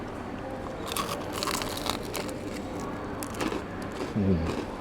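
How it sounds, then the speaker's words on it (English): Crisp crunching bites into freshly fried chicken, a few irregular crackly crunches close to the mic with faint background noise. "Freshly fried. Plus you can hear the crunch."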